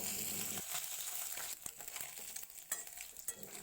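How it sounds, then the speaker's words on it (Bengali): Puti fish rubbed with salt and turmeric frying in hot oil, a steady close sizzle with a few sharp crackles and stirring clatters, no talking. "নুন হলুদ মাখানো মাছ সুন্দর করে ভেজে তারপর তুলে নেব"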